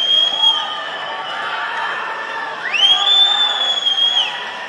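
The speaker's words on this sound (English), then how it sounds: "Crowd in attendance here at the Curtin Stadium." A crowd cheers in a stadium before a fight, a broad roar of voices with whistles, and a shrill whistle that rises and holds near the end sits over the noise.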